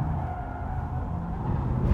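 Audi RS e-tron GT electric car accelerating hard on a race track, a steady low drive whine and road rumble that swells slightly toward the end, with no talk.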